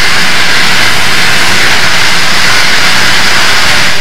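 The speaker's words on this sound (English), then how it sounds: "As 4274 rounds the big curve at Blue Canyon, she is running at full throttle." Cab-forward steam locomotive 4274 climbing at full throttle around the big curve at Blue Canyon on the Donner Pass mainline, a loud, dense, continuous roar of exhaust and machinery with no break.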